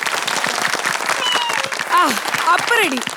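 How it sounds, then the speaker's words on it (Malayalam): Applause from a studio audience at a television game show after a dance act, a thick patter of clapping running throughout beneath excited shouting and cheering voices. "കൈയടി"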